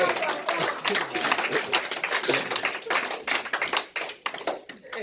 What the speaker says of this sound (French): Donne une belle acclamation à notre Dieu.